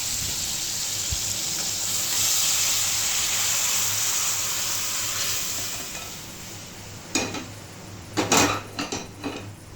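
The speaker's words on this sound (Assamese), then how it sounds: "এইখিনি এনেকৈ লৰাই লৈ এতিয়া বইল কৰি লোৱা ঔটেঙা দালিখিনি দি দিম।" Dal with taro stems and sour ou tenga fruit simmers and sizzles in a pot with a steady hiss, then a few sharp metal scrapes and clinks of a spoon stirring come near the end.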